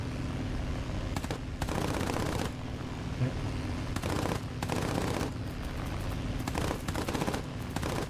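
Rear gunners' machine guns fire in repeated rapid bursts from a War Thunder aircraft, over a steady engine drone, with several separate bursts spread across the clip.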